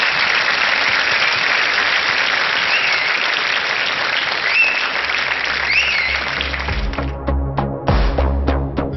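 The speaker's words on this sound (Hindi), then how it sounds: "जोरदार तालियां के लिए" Loud, dense applause from a television talent show audience fills the stage hall, sustained and steady before thinning into scattered heavier claps and thumps near the end.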